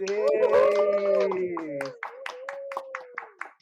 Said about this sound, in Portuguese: a gente já aproveita essa salva de palmas calorosa